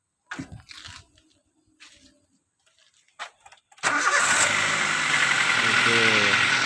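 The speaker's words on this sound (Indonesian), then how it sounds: "Coba hidupkan ini hidupnya, tinggal starter doang ya." A Daihatsu Xenia / Toyota Avanza engine is cranked by its starter and catches, settling into a loud, rough mid-pitched idle after a few quiet handling noises.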